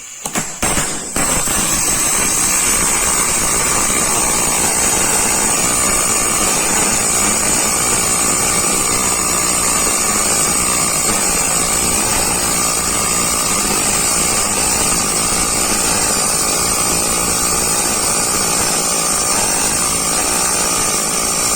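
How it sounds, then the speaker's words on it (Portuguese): A short-circuit MIG welding arc using the RMD controlled-circuit process at a wire speed of 4 crackles loud and continuously, a dense buzzing sizzle sustained throughout after a brief start. "eu vou botar aqui só para uma velocidade de arame de 4 e vamos soldar"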